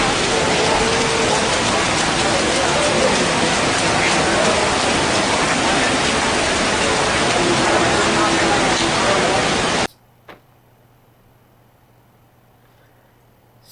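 A heavy rain shower at Universal Studios Orlando roars as a dense, steady wash of pouring water for about ten seconds, then cuts off abruptly to near silence.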